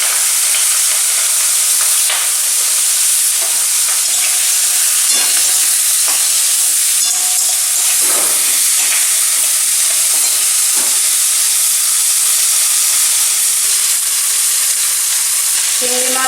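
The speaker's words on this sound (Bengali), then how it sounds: "এবার আমি চিংড়ি মাছগুলো এতে ভেজে নেব।" Bagda prawns fry in hot oil with a dense, loud, continuous sizzling hiss, close up, broken by occasional crackles and faint clinks of a spoon.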